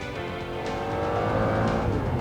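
A 1995 McLaren F1 supercar with a Grand Prix–level engine drives past, its engine note a loud, steady, raw drone that swells slightly as it continues, with no voices.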